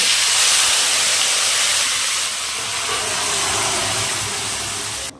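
Boiled chana dal dropped into a hot spice tempering, giving a loud, steady sizzling hiss close up that eases slightly after a couple of seconds and keeps going, with no talking.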